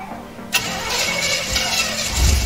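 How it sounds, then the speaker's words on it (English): An old-school V8 in a replica Ferrari, converted to fuel injection and fitted with a big turbo, cranks and catches at about half a second, then settles into a loud, steady idle close by. "what we have here is a replica Ferrari, which has got an old school V8 with a nice big turbo strapped to it"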